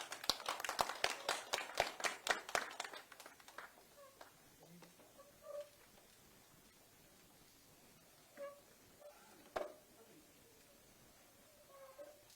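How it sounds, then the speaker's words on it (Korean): Applause from an audience greets presidential candidate Kim Moon-soo before his public appeal, a quick flurry of claps for about three seconds that thins to a few scattered claps amid faint murmurs and room noise. "모두 큰 박수 부탁드립니다."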